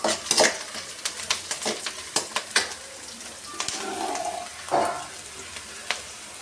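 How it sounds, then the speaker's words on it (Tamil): Velai keerai (Cleome gynandra) greens sautéing in hot oil with onion and garlic, heard as a soft sizzle under repeated clicks and scrapes of a spoon stirring against the pan, near and fairly quiet. "இதை எண்ணெயில் போட்டு நல்லா வதக்கி எடுத்துக்கணும்"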